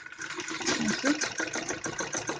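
A sewing machine runs in a soft, steady, quick rhythm while stitching a kids' romper, heard close up and fairly quiet.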